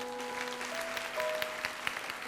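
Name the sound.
congregation applause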